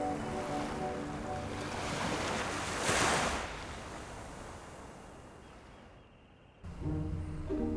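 Sea wind and waves on the Jeju coast, with steady rushing surf and gusting wind buffeting the microphone. A wash swells around the middle, then a brief near-silent dip before the roar returns.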